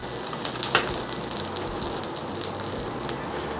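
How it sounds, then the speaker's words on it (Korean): Enoki mushroom pancake frying in oil in a pan, a steady, close crackling sizzle that holds at an even level throughout with no voices. "팽이버섯전 맛있게 붙여주고 있습니다"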